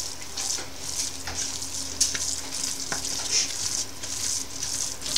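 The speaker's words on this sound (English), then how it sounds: "And then we just keep stirring and stirring." Doro wet cooked with berbere sizzles steadily in a pot while a spoon stirs it, scraping and clinking now and then, loud and close with no talking.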